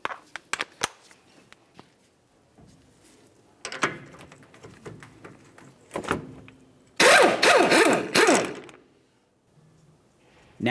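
A 21mm socket removes the tie rod jam nut on a 2009-2019 Ford Flex while the inner tie rod end is held with locking pliers. Scattered clicks and clanks build to one loud burst of rapid ratcheting near the end.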